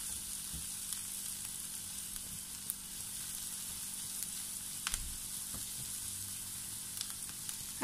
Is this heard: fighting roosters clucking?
no